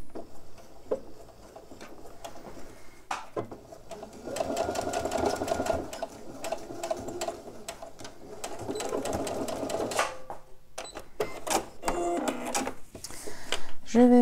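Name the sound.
sewing machine stitching a seam on a pouch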